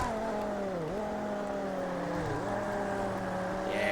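V8 GT race car engine from the Total Immersion Racing video game, a steady loud drone with rising revs and two brief dips as gears shift, continuous throughout with no talk.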